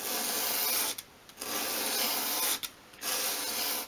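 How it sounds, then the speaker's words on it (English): A small wood piece for a 1/12th scale storage unit is swept at an angle across sandpaper: three steady raspy strokes, close and loud, separated by short pauses. "just hold the piece at a 45-degree angle against your sandpaper, and keeping it at that angle, just sweep it towards you."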